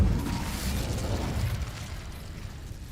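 Incendio fire spell cast in Hogwarts Legacy on PS5, a close whooshing burst of flame with a rumbling low roar that gradually fades over a few seconds.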